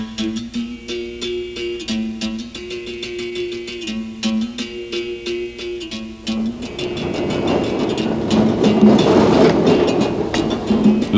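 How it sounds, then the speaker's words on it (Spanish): A Lisbon tram rattles and clatters along street tracks, with a steady clickety-clack that swells into louder, rougher rumbling and wheel noise in the second half, close and continuous with no talk. "Los tranvías, con su traqueteo y su colorido, facilitan una especialísima manera de ver Lisboa"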